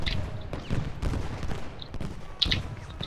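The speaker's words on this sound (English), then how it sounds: "there comes the volley" A musket volley in the Ultimate General: Gettysburg video game rolls out as a crackling spread of overlapping shots, with scattered pops and distant booms continuing through the stretch, moderately loud and without speech.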